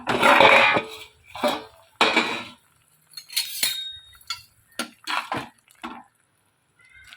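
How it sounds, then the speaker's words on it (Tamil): A lid goes onto a cooking pot of radish with a run of metallic clinks and clatters: a longer scrape first, then short separate knocks and taps with quiet gaps between. "இப்போ இதை நம்ம மூடி வச்சிடலாம்."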